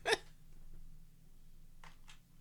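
A single sharp sneeze right at the start, close and loud, followed by quiet room tone and a couple of faint breathy sounds near the end, with no talking.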